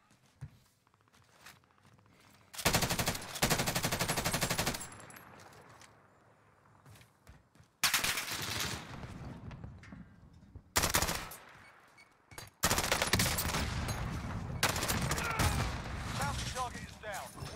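Bursts of gunfire in the Warzone video game during a ghillie-suit sniping match, loud sustained volleys broken by quieter stretches with footsteps and movement noise.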